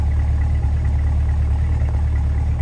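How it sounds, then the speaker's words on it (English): A torch red 2020 Corvette C8 Coupe 2LT idles with a steady, deep low-frequency exhaust rumble, close and unchanging throughout with no talking. "let's check out those LED tail lights and that exhaust at idle there"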